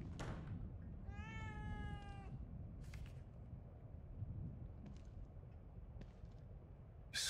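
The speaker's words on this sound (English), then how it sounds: "I don't ever remember owning a cat." A single drawn-out, wavering cat meow lasting about a second in the video game The Evil Within 2, followed by a few sharp faint clicks and thumps in a quiet room.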